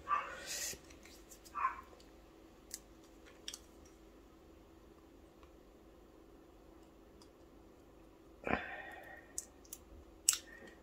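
Small dog barking outdoors in a garden, heard faint and distant: a short burst at the start, a brief yap, then another bark near the end over a quiet background.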